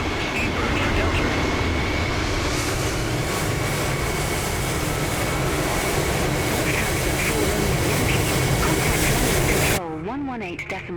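A British Airways airliner's jet engines roar on takeoff from Heathrow in Microsoft Flight Simulator, a dense, loud, steady rush that cuts off abruptly near the end, with a voice also present.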